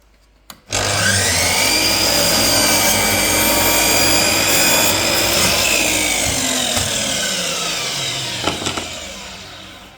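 A Dewalt DWS780 miter saw makes a 45-degree cut: the motor spins up sharply, then a loud, steady whine and grinding rasp holds through wood for about eight seconds before winding down.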